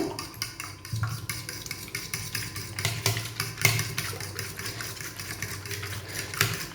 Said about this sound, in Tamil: இப்போ எக்கு நல்லா பீட் பண்ணி எடுத்தாச்சு